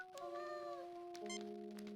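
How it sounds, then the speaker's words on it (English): A Terran cat meows in the Star Trek: Judgment Rites video game, one long tonal meow followed by a second shorter one, clear and alone against a quiet background. "Terran cat, feeling very self-satisfied."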